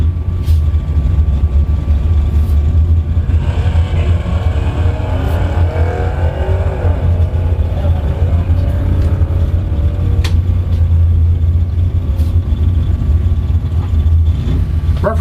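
Drag racing cars at Bradenton Motorsports Park during a Labor Day bracket event, a Buick in the left lane, a loud sustained engine drone with a rising rev sweep in the middle, heard alone without talk.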